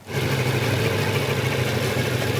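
A motorcycle idles through a slow, heavy turn, its engine a steady low, even putter at close range with no voices over it.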